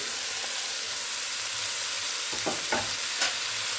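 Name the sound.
chopped greens and bottle gourd added to frying pan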